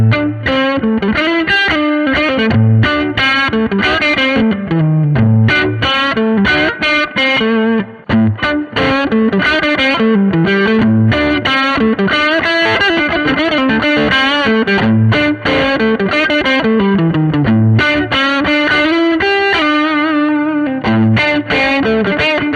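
A Gibson R9 Les Paul with humbucker pickups plays through a Rift EL34 valve amp with reverb on, giving a loud, continuous driven electric guitar passage of chords and riffs with no talking.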